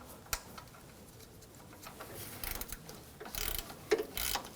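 A ratchet clicks in short bursts while tightening a bolt on a Hummer H3's AC compressor, the quiet, close clicking coming in uneven runs against a hushed background.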